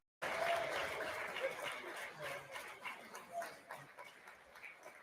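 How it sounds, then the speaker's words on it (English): Audience applause fills a California State Legislature assembly chamber, a sustained broadband clapping that starts abruptly and slowly thins toward the end, with faint voices mixed underneath. "please join me in another round of applause for all of their contributions"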